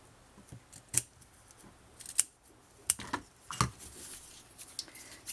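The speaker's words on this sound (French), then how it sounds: "Alors je vais couper dans ce sens-ci, un tout petit angle." Scissors snip through fabric and paper for an autumn-themed scrapbook album cover: a series of crisp, close cutting clicks at irregular intervals, with quiet pauses between them and no talking.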